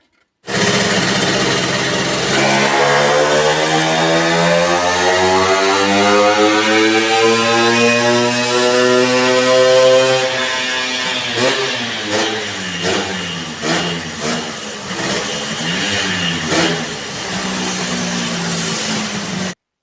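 A Kawasaki AR two-stroke moped engine with a larger-than-standard Giannelli exhaust revs on a dyno power run, its buzzing tone climbing steadily to a high pitch, then settling into wavering, uneven revving near the end, loud and close, with no talking.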